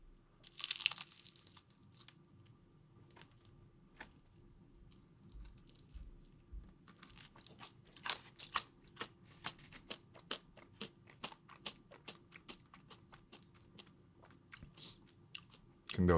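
Crunchy fried chicken is eaten close up, with repeated crisp bites and chewing crunches at an irregular rhythm over quiet background.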